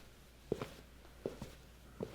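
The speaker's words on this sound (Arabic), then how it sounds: "صح انه كلها خطوات وتشبه بعض" Footsteps sound effect of a person walking a long distance: three evenly spaced, soft steps with a heel-toe double hit, faint and alone over a quiet background.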